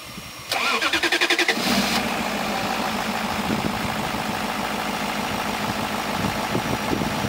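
An old VAZ 'Semyorka' car that sat unused for two months cranks briefly with rapid pulsing turns, then catches and settles into a steady, loud idle nearby.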